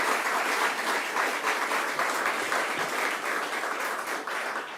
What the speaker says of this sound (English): let's give him a round of applause for sharing his story as well